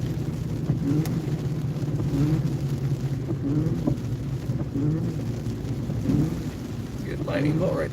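Thunder rumbling through a thunderstorm while storm chasing on a road, low rolling booms over steady rain and a running car, loud and continuous, with brief voices at times.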